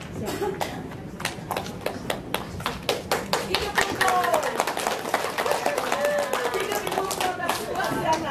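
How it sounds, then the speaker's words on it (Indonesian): Audience applause honoring a teacher at an Indonesian good-practice sharing event, a steady patter of many hands clapping with sharp individual claps standing out, sustained and fairly close, with faint voices underneath. "Sekali lagi berikan aplaus yang luar biasa untuk Ibu Anda."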